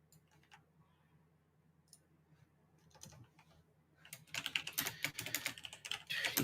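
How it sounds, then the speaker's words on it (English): Someone types on a computer keyboard during a podcast recording. Sparse, faint key clicks come first, then a dense, louder burst of rapid typing near the microphone. "You can all hear me typing."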